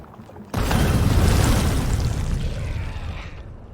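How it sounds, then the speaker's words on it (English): A nuclear detonation in the Factorio video game: a sudden loud, rumbling blast that swells and rolls on for about three seconds before slowly fading, with no talking over it. "So they have the inner explosion, the expanding radius, the rolling clouds, as well as the craters and the decoratives."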